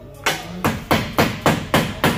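Metal hammer blows striking a broken car antenna, six to seven sharp, evenly spaced whacks at a steady beat, loud and close with no talk over them.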